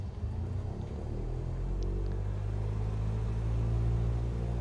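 Steady piston aircraft engine held at 1,800 RPM in Microsoft Flight Simulator 2020, a continuous low droning rumble with even loudness throughout, no voices.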